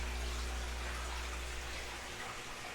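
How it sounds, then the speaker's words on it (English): Water rushes through a Python hose to refill aquarium tanks, producing a soft, continuous gushing hiss that eases slightly toward the end, with no voices. "The only thing I use my Python now is to refill the tanks."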